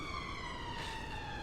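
An ambulance siren wails with a steady sustained tone, clear and moderately loud as it passes, alone with no talking.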